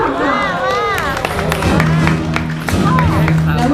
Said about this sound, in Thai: เสียงปรบมือต้อนรับขบวนอันที่สามค่ะ